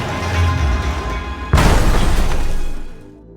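A single sniper rifle shot from an action film cracks out loudly midway through a dense bed of film sound, followed by a long rumbling decay that fades over about a second and a half.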